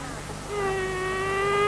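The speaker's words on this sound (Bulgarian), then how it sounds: "Излюпената майка тутка," A freshly emerged queen honeybee pipes inside the hive, a sustained, steady, slightly rising tooting tone that starts partway through and continues over the hive's constant hum.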